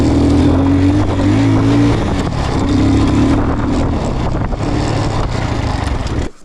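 A loud Alfa Romeo car engine, recently repaired after seizing, runs steadily with a deep rumble, holding a constant drone as the vehicle pulls away, cutting off abruptly at the end.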